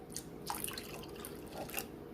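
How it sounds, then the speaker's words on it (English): Hot milk mixture pours into four egg whites to temper them, a quiet close trickle of liquid with a few soft splashy drips, heard alone. "You're going to pour half of that milk mixture to temper the eggs."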